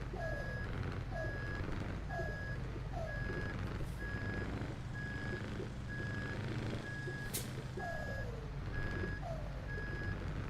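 Reversing beeps from a Scania truck in Euro Truck Simulator 2, a steady evenly spaced electronic beep repeating over a low engine rumble, with brief air-brake hisses breaking in.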